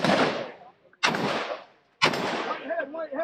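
Three loud rifle shots ring out in a shooter video game, spaced about a second apart, each a sharp crack with a decaying tail, with faint game effects after the last.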